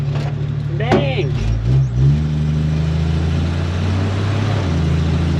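A 1946 Studebaker M5 truck engine drones steadily up close, its low hum shifting pitch as the truck slows under braking, with a person talking over it.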